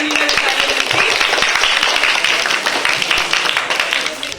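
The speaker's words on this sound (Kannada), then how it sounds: "ಅವರಿಗೆಲ್ಲರೂ ಒಂದು ಚಪ್ಪಾಳೆಯನ್ನ" An audience at a cultural event claps for a teacher after his song, a dense, steady round of applause that carries on for several seconds and fades slightly at the end.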